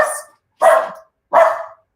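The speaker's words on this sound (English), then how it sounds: "My dogs are you know, barking." A dog barks three times in spaced, sharp bursts at close range, each bark loud and clipped with silence between, heard indoors with no talk over it.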